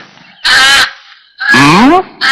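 A chicken squawks loudly twice, close by, each cry harsh and strained with a rising, wavering pitch, and a third cry begins at the end.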